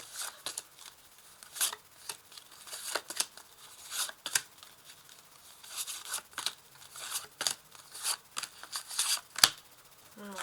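Tarot cards drawn from a deck and laid out one by one, a steady series of soft shuffling, sliding and slapping sounds, close and quiet.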